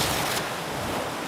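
Small waves lapping on a lake during paddle foiling, a soft continuous wash of water mixed with steady wind rush, moderately faint and without voices.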